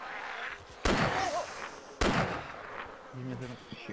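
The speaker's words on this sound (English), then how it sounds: "Shooting the zombies through the window." Two sharp, loud gunshots ring out in ARMA 2's DayZ mod as a player fires at zombies through a window, each blast followed by a long echoing tail, with faint voices and buzzing in the background.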